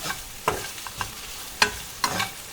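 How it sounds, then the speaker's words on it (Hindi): Potatoes for Garhwali aloo ki thichod fried in a pan, heard as faint sizzling under several sharp, close scrapes and clatters of a spoon stirring against the pan, irregularly spaced, with no talking. "इनको फ्राई करेंगे।"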